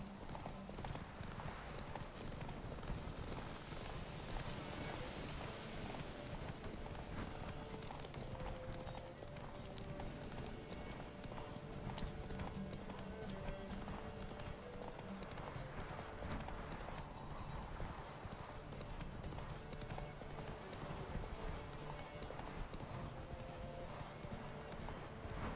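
Hoofbeats of Roach, the horse in The Witcher 3: Wild Hunt, gallop in a steady, continuous clip-clop rhythm with an occasional whinny, set over a dense game soundscape and loud throughout.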